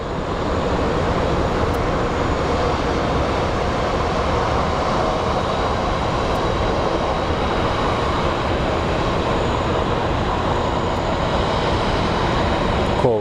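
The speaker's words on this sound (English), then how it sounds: "we had our Southwest Airlines land" A Southwest Airlines jet landing at Phoenix Sky Harbor airport gives a steady, loud, broadband engine roar that holds evenly throughout, heard from a distance with no speech.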